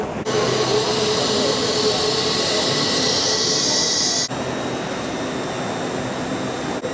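A train at a station rumbles steadily nearby with a high metallic hiss and whine over it, which cuts off abruptly before the low rumble carries on.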